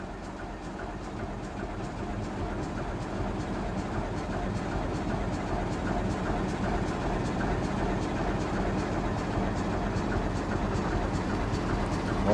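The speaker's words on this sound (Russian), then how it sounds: "через несколько секунд после того, как будет дан сигнал, поезд отправится" A train sets off from a high vantage point near a giant excavator, a low engine rumble and rhythmic rolling clatter building gradually and steadily, heard from a distance without talk.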